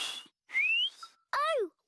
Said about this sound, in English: It sounded like a whistle to me. What a lovely tune.